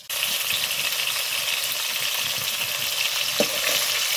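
Rohu fish pieces fry lightly in hot oil, giving a steady, close sizzle that holds evenly throughout, with one brief clink of a utensil partway through and no voices.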